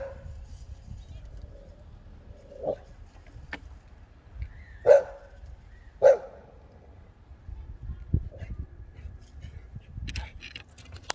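Loose dogs barking while playing around outdoors, a few sharp barks standing out at moderate distance against a low background rumble, spaced irregularly with quieter yips between.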